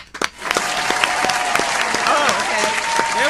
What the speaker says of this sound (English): we're gonna clap up for it while we here all together